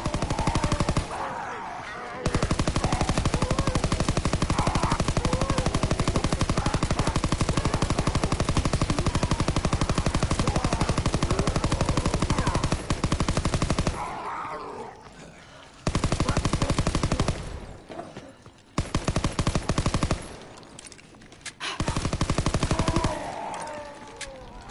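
A PPSh submachine gun fires in a Call of Duty WWII Zombies game, long rapid automatic bursts of gunfire broken by short pauses, loud and continuous for most of the stretch.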